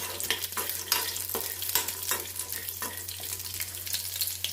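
Green chillies and peanuts sizzle steadily in a hot pan, with a continuous frying hiss broken by repeated scraping stir strokes and a low, constant background hum.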